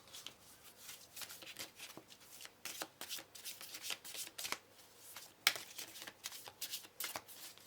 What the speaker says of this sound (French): Je vais mélanger une carte du jeu avec.